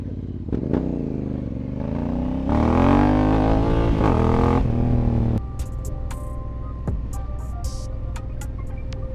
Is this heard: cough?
no